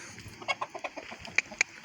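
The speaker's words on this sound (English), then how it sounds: "Chickens. Chickens." Chickens cluck in short, quick bursts, close by, a rapid series of soft clucks with a couple of sharper peaks near the end.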